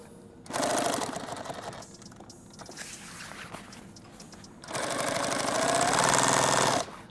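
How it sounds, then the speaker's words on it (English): Sewing machine stitching a hem along the edge of pack cloth, two loud steady runs of fast mechanical stitching separated by a quieter pause with small handling noises. "It wants to shrink up, so I'm going to pull on it as I sew it."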